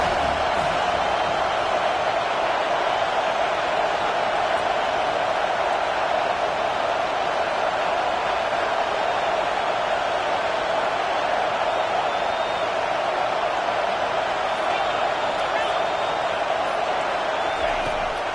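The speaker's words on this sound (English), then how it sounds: "Decibels rising as the crowd gets behind this defense on 3rd down." A football stadium crowd roars steadily during a third-down defensive stand, a dense, continuous wall of noise heard from within the stands, staying loud throughout without clear breaks.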